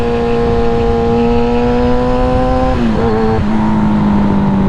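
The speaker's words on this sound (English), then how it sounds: "So listen to my engine chasing." A motorcycle engine in second gear during a wheelie, revving steadily high and loud until it runs out of RPMs, with the pitch dipping briefly before climbing again.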